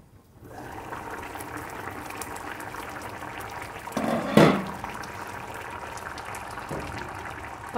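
Chicken kulambu with potatoes simmering under a lid in a pot, a steady low bubbling hiss with a brief louder burst of bubbling partway through, no talking.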